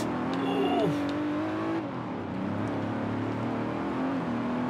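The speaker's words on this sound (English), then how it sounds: "Ooh, listen to that engine roar." An unmodified stock Aston Martin DB5 in the Forza Horizon 4 racing game, driving in England, gives a steady, loud engine roar whose pitch climbs and then settles, with no talking over it.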